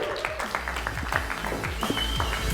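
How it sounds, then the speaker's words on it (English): An audience claps steadily through a live real estate presentation, a dense wash of applause that holds at one level from start to finish, with faint voices mixed into the crowd noise. "Let's give Burton one more big final round of applause"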